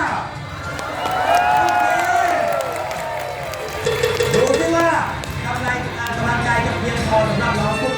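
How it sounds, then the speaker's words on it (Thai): Audience at a Safari World show cheering and shouting in a loud, continuous crowd roar, with an announcer's voice talking over it throughout. "เสียงเชียร์ไม่ดังพอ"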